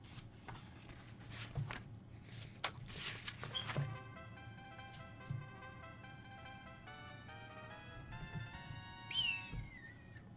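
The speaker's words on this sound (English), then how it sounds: "No, that was me whistling." A person whistles a clear melodic tune of rising and falling notes, with a quick upward slide near the end, over a steady low hum of background game music.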